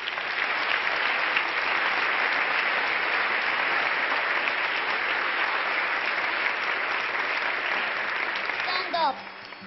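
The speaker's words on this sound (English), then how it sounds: "I think you can have a big applause for the 12 ladies which are here" An audience at the United Nations gives sustained applause for twelve women, dense steady clapping lasting the full length and easing only at the very end.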